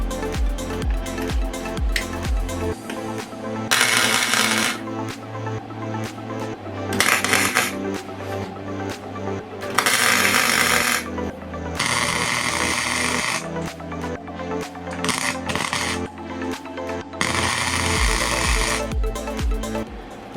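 Welding on a homemade ice fishing rod holder: intermittent bursts of harsh, crackling hiss, each lasting a second or two, recur across the span over a steady background hum.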